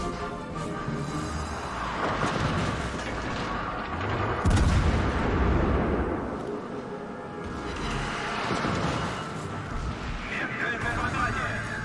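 Naval guns fire repeatedly from warships in the World of Warships Legends video game, giving dense, rumbling booms and crashing salvos with a heavy burst near the middle, under continuous game noise and talking.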